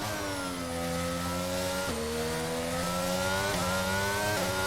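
Formula 1 race car engine in the F1 22 video game at the Hungarian Grand Prix, a loud, steady high-pitched whine climbing through the gears with brief dips at each upshift, heard alone and close throughout.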